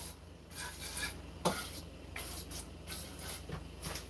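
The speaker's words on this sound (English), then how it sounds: "let me spray my muffin pan." Cooking spray hisses onto a muffin pan in a home kitchen, several short bursts in a row, close and fairly soft, with no talking.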